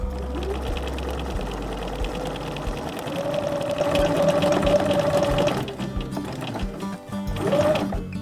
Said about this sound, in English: improvised artsy sewing with my freehand embroidery